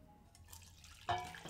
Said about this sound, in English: Strain the stock into a pot with a mesh strainer, removing the baby sardines.